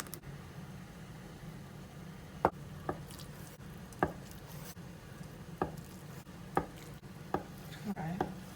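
A kitchen knife chops food on a cutting board while Japanese dishes are prepared, giving about eight quiet, spaced, sharp knocks over a low steady hum.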